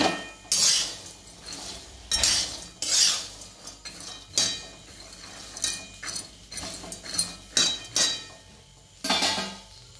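Horse gram dry-roasts in a metal pan, heard as irregular bursts of rattling, clinking spoon scrapes as the grains are stirred, close and moderately loud with no voices.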